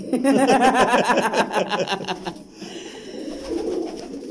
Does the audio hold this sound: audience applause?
no